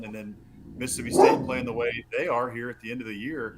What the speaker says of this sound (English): That's my dog Archie, as you can hear.